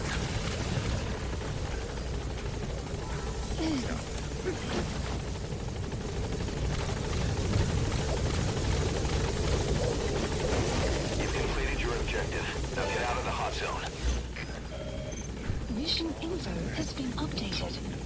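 Helicopter Pequod in the video game Metal Gear Solid V, a steady rotor and engine drone throughout, with a radio voice and commentary over it.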